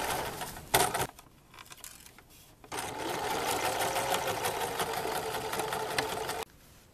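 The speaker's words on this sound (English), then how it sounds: "With all the layers to go through, I'm sewing pretty slowly, making sure that my needle goes in and right along the stitch line." Sewing machine running slowly, stitching a dirndl's lining to the main dress along a piped stitch line through several fabric layers; a brief burst near the start, then a steady close whirr for about four seconds before it stops.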